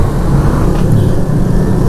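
Heavy road traffic in Lahore, a dense, steady low rumble of engines and passing vehicles that stays loud and continuous with no clear individual events.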